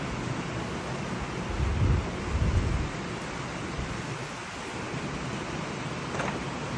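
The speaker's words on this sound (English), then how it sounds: "It's coming a storm out here, ain't it?" A thunderstorm heard from an outdoor porch: a steady roar of rain and wind with a low rumble of thunder swelling around the middle, loud and continuous, with no voices.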